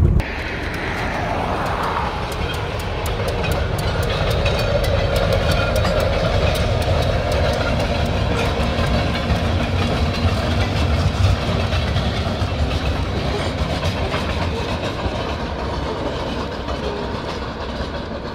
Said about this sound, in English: Five cars. Not a big train, but a train.